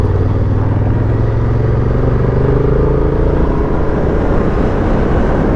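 A 2023 Honda Hornet motorcycle with a quick shifter pulls hard under acceleration, its engine note loud and close, rising in pitch in a smooth sweep over steady wind rush.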